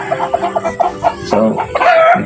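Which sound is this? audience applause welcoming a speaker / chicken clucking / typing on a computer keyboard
chicken clucking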